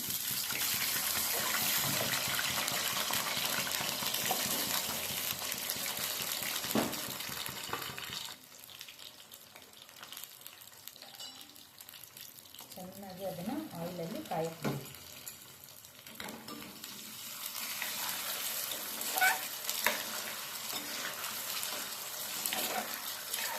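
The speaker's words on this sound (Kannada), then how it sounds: "ಫ್ರೈ ಮಾಡಬೇಕು, ಬೇಗ ಫ್ರೈ ಆಗುತ್ತೆ ಪೊಟ್ಯಾಟೊ" Potatoes cut as fries sizzling in hot oil, a bright steady hiss and crackle that fades for a stretch in the middle before returning, with someone talking over it.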